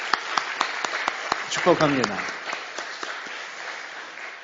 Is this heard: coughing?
no